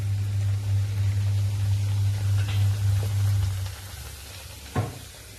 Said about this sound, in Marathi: दुसरी पुरी होती तोपर्यंत आपण पुढच्या पुऱ्या पण तळून घेणार आहोत